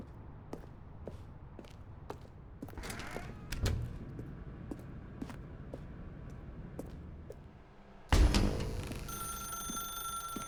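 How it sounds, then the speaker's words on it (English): An old telephone rings in The Stanley Parable video game, short repeated bell bursts at an even rhythm over a quiet room tone, with a louder clatter and sustained tone near the end. "Now pick up the phone"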